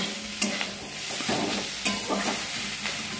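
Fish heads frying with spices in a pan, a steady close sizzle with repeated stirring scrapes at an even rhythm, no talk.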